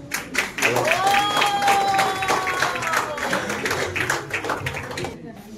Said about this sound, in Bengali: সুনিতা মাহাতোর জন্য জোরে হাততালি হোক।